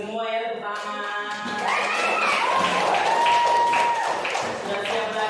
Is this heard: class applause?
yes